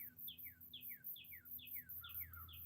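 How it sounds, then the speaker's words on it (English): Outdoor birds call repeatedly in quick descending chirps, a steady rhythmic series of bright calls at moderate distance over a low background hum. "These birds are really squawking though."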